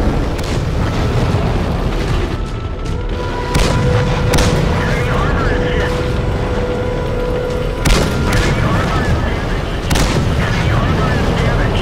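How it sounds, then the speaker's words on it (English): Celebration fireworks in a tank racing video game, a steady roar of booming bursts and crackling blasts layered over a continuous rumble, with a few sharp loud pops standing out. "Celebration fireworks."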